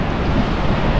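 Water of the Guadalquivir river rushing through the Tajo de Ronda gorge after torrential rain, a loud steady roar with wind noise, no voices.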